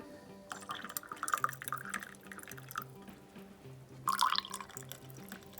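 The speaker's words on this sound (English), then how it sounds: "I pour a little bit of that in each drink, like that." Warmed pea milk cream poured into drinks, two short trickling bursts of liquid with soft splashing over faint background music, fairly quiet and close.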